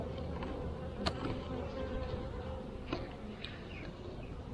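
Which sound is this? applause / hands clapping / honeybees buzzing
honeybees buzzing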